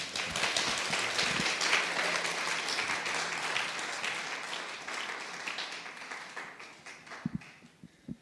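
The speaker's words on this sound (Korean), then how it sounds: "우리 선교사님 나올 때 우리가 박수로 격려하며 환영하도록 하겠습니다" A church congregation claps to welcome a missionary speaker to the front, with warm, full applause that starts strong and gradually fades over eight seconds, ending in a few scattered claps.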